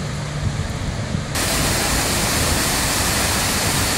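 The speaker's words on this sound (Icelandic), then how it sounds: "Hérna erum við stödd við Seljalandsfoss." Seljalandsfoss, a waterfall in Iceland roughly 64 metres high, roars as a loud, steady broadband rush close at hand. The wash thickens and grows fuller partway through and carries on unbroken, with no voices over it.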